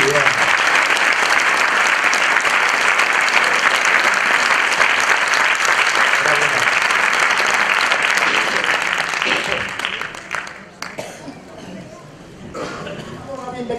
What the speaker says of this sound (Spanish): Fuerte el aplauso, fuerte, fuerte.